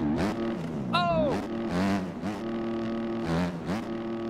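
Motocross bike engine in the video game MX Bikes, rising and falling through high revs in repeated surges with a sharp whine as it climbs, loud and close the whole time.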